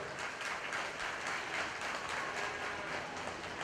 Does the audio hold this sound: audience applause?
yes